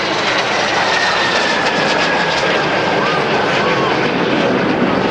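An MS760 jet aircraft flies past at an airshow, a loud, steady broadband engine roar that fills the whole stretch without fading.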